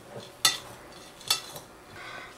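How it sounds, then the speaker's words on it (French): A spoon works cake batter toward a smooth mix for a birthday number cake, giving two sharp scraping clinks against the bowl and softer stirring sounds between them, faint and close. "J'incorpore tout ça pour avoir un mélange homogène."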